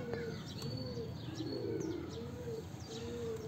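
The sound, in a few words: pigeon cooing while being handled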